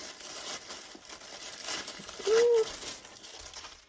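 Gift wrapping paper with stickers being unwrapped from a subscription box, soft close crinkling and rustling throughout, with a brief pleased exclamation from a voice in the middle.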